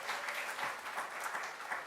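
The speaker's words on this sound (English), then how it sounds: "Give yourselves a round of applause." Applause from an audience at an event marking the 23rd anniversary of the Americans with Disabilities Act, a steady, faint wash of many hands clapping heard from a distance.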